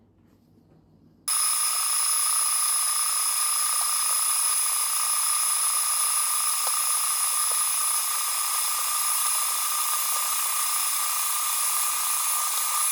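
An electric meat grinder fitted with a fine grinding plate runs on deer meat, starting abruptly after a quiet moment and then holding a steady, loud, high-pitched motor whine with a constant hum that continues unbroken to the end.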